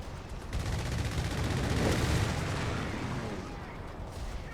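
Howitzer artillery fire in a strategy video game, heard as a broad rumbling blast and roll of booms that builds toward the middle and then decays, with faint voices underneath.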